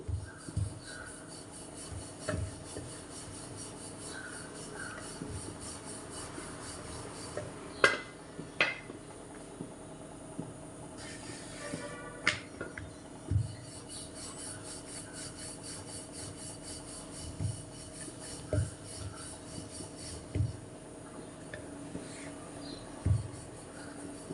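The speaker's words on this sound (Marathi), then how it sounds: "एकदम हलक्या हाताने लाटून घ्यायची पुरणपोळी म्हणजे फुटत नाही" A rolling pin works puran poli flatbread dough with a light hand, soft repeated rubbing and rolling strokes close by, with occasional faint taps and clicks against the board.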